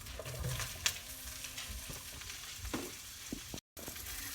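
Mushrooms frying in butter in a pan, giving a steady soft sizzle with light stirring clatter, close and fairly quiet, with no one talking.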